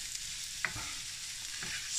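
Vegetables softening in a hot pan for lasagne, a steady low sizzle with two soft scraping stirs of a utensil against the pan, close and fairly quiet.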